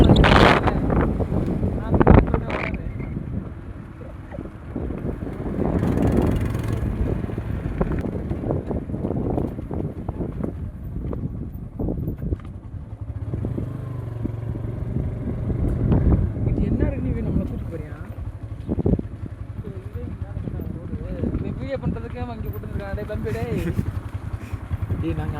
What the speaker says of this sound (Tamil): இந்த பாதையில் ஸ்ட்ரெயிட்டாக இப்போ போக போகிறோம், அதுவும் பைக்கில்.